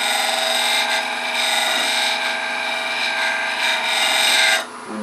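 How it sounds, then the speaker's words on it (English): A lathe turning tool is honed on a spinning sanding disk at about 1200 grit, a steady hissing grind with a whirring motor hum that runs evenly, then drops off near the end. "And I can go ahead and hone it using the tool rest."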